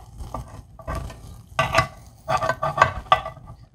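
Hot meatloaf sizzles in a cast-iron skillet, a close crackling fry that swells in loud bursts over about four seconds, mixed with the scrape and clink of a utensil against the pan.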